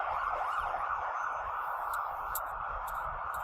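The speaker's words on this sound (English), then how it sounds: "Excuse the sirens." Emergency sirens wail continuously with a rising and falling tone, heard at moderate distance over a low traffic hum.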